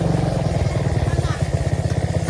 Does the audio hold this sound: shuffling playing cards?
no